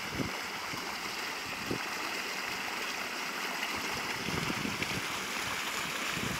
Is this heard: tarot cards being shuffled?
no